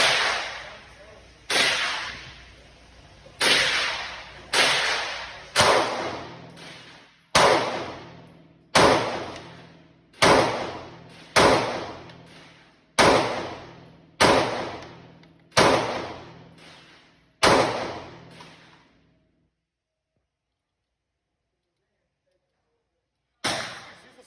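An FN Reflex Micro 9 pistol fires about a dozen sharp, loud shots at an outdoor range, spaced a second or two apart, each ringing out with a short echo before a long pause and one final shot.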